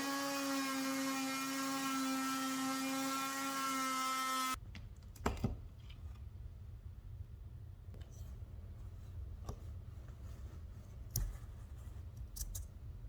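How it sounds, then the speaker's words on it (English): A high buzzing oscillating tool cuts a rectangle out of a wall, whining loudly for a few seconds, then stops, followed by quiet scraping, taps and handling noises. "using an oscillating tool, I just cut out that rectangle."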